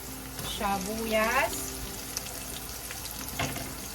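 Garlic frying in a pan for white chicken adobo sizzles steadily at a low level, and onion is added with a brief stir, while a voice talks briefly over the cooking.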